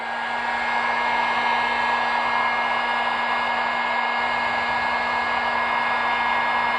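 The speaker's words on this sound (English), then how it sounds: "now, I'm going to come back with a heat gun." Heat gun blowing hot air onto shaped foam during parts fabrication, a steady loud whirring roar with a constant hum, unbroken throughout.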